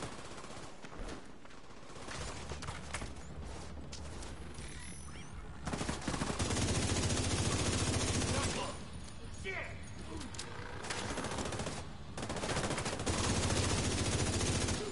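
Bursts of automatic gunfire from the video game The Division 2, heavy and sustained across most of the stretch with brief lulls, loud and dense, with a voice talking over parts of it.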